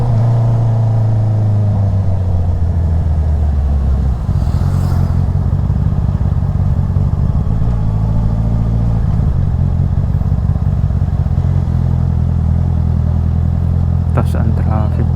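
Road traffic in San Felipe, Zambales, with cars and motorcycles passing, forms a loud, steady rumble of engines with a revving swell, while people talk throughout close by.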